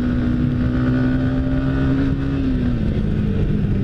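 A Yamaha XSR 155 motorcycle engine revs hard and holds a high, buzzing, vibrating pitch, loud and close, with no talking.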